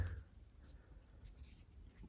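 Glue is spread across paper while folding a paper Naruto ninja kunai, producing faint, soft scraping strokes that are quiet and close.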